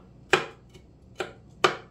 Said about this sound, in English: So I'm chopping up these red peppers to very small things.